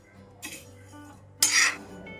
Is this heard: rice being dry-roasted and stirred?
yes